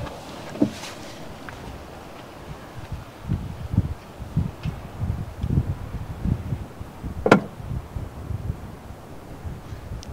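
Wind blowing outdoors at sunset, a steady low rumbling buffet with gusty bursts against the microphone throughout, plus a few brief knocks and rustles.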